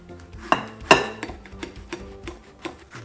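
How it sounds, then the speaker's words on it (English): A knife slices a watermelon into roughly inch-thick cubes inside a bowl: two sharp cracking chops, then a run of lighter taps and clicks against the bowl. "we're going to rotate this 90 degrees and then we'll just cut it"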